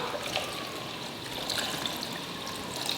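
Water being poured while making Haitian lemonade, a steady trickling, splashing stream heard alone and fairly close throughout.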